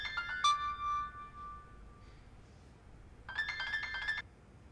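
An incoming-call ringtone chimes on a phone, a bright melodic tone that plays briefly, pauses about two seconds, then rings again, close and clear against a quiet room.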